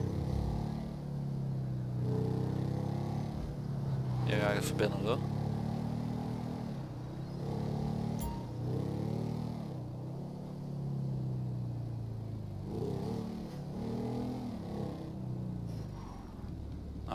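A police motorcycle in GTA 5 rumbles along under steady engine drone, with its pitch swelling and dropping as it revs through traffic while someone talks over it at length.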